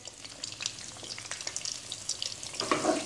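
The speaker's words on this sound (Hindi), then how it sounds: "एहतियात से वेरी केयरफुली इसमें टैकोस फ्राई करने के लिए डाल दें" Taquitos fry in hot cooking oil, a close, lively crackle of bubbling pops that thickens into a denser sizzle toward the end.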